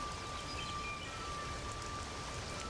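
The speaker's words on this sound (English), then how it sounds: "It's raining bucket. It is raining," Steady rainfall in Conan Exiles patters continuously at a moderate, even level, with a faint tonal hum running underneath.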